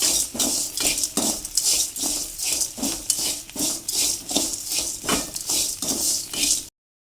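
Curry leaves and lentils dry-roasting together in a pan, heard as a steady, busy rattle of rapid scraping and clinking strokes against the metal, close and fairly loud, then cutting off abruptly.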